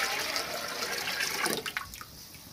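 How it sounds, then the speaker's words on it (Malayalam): Measured water poured into a pot of softened sautéed onions for a Malabar-style beef dum biryani, a close, steady rushing gush that tapers off into light trickles and drips, with no talking. "ഇനി ഇതിലേക്ക് നമ്മൾ നേരത്തെ അളന്ന് വെച്ചിട്ടുള്ള വെള്ളം കൂടി ചേർത്ത് കൊടുക്കാം."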